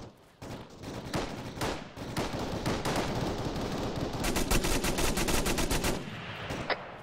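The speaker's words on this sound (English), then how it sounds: "We're taking fire from the north somewhere." Sustained video game gunfire, rapid automatic bursts mixed with single shots that roll on without a break for several seconds, fairly loud and close.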